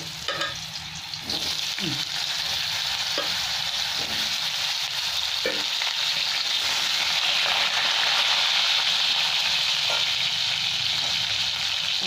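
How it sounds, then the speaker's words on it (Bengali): Large-cut potato pieces fry in hot oil in a wok while being stirred, making a loud, continuous close-up sizzle broken by occasional scrapes and clinks of a spatula. "এবার আমি আলুটা ভেজে নিচ্ছি।"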